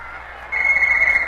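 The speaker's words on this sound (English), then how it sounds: "And there's the 10-second whistle." A ten-second warning whistle at a boxing match in a 1949 radio drama, a steady shrill tone that starts halfway through and holds loud to the end over a hushed arena background.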